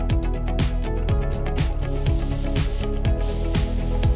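Airbrush spraying water-based opaque acrylic paint, a steady close hiss heard alone, broken by a soft rhythmic pulsing.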